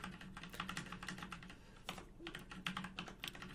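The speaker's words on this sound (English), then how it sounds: "right here, I'm entering my secret credit card number," Fingers typing a credit card number on a computer keyboard at a checkout form, a quick close stream of soft key clicks with short pauses between bursts and no voice.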